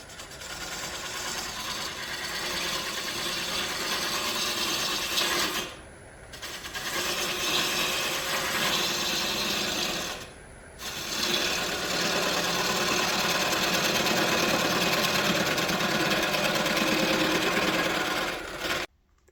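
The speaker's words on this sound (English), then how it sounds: "now I'll continue shaving down the outside of the sphere and try and get it as close to round as I can" A wooden sphere being shaved down on a lathe gives a continuous, loud scraping and whirring cut, broken by two brief pauses where the tool lifts off before cutting resumes.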